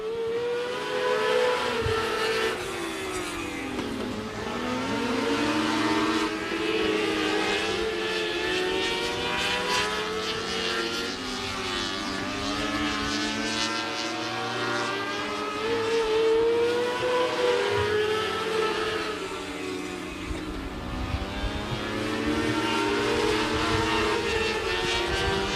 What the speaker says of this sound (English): This is your first heat race here in your Northern Plains Supply 600C winged micros.